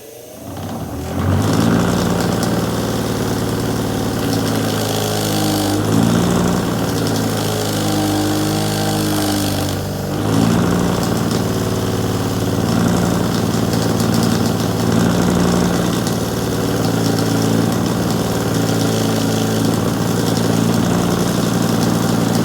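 A motor-driven wire wheel spins against rusty brake caliper pins from a 2002 Chevy Trailblazer, giving a loud, continuous whirring hum with slight shifts in pitch as the parts are pressed to the wheel.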